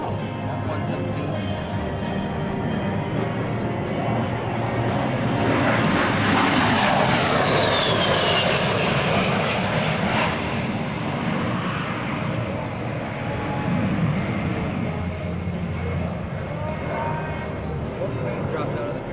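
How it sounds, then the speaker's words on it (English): An A-10 Thunderbolt II jet roars loudly and continuously during a flying demonstration at a joint services open house, its engine tone sweeping and swelling as it passes, while an announcer talks over the noise. "now positioned at the A-10 for his final approach and landing"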